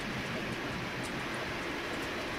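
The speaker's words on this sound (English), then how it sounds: "Not this time, train." Train rolling past in the arcade video game Metal Slug X, a dense steady rumbling roar with no breaks, loud and filling the whole stretch.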